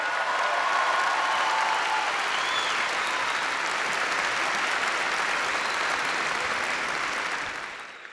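Sustained applause from a large graduation ceremony audience in Dubai, a dense steady wash of clapping that holds evenly for several seconds before tapering off at the end.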